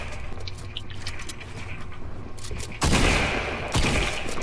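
Fortnite gunshots ring out as a couple of sharp, fairly loud blasts in the last two seconds, over a steady low game ambience.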